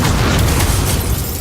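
A burst from the Incendio fire spell in the Hogwarts Legacy video game: a loud, dense, booming whoosh of flame that fills the whole moment with a heavy low rumble and no speech.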